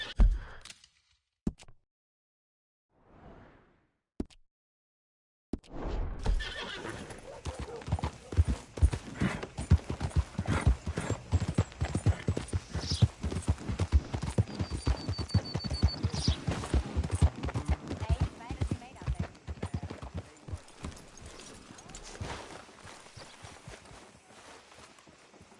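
Horse hooves clip-clopping in Red Dead Redemption 2, a dense steady walking rhythm that starts after a few scattered knocks and continues close and clear for about twenty seconds.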